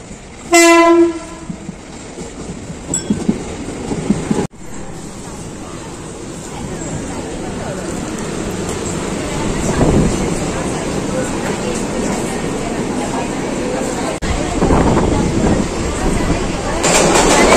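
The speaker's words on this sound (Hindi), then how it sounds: "ती बघा आपली ट्रेन येते आता" A commuter train pulls into a suburban station, opening with a loud horn blast, then a steady rolling rumble and rattle of carriages that builds as it draws close, with faint voices of people on the platform.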